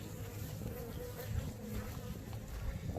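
Honeybees buzzing steadily around an open hive during an inspection, a dense close drone that continues throughout without pause.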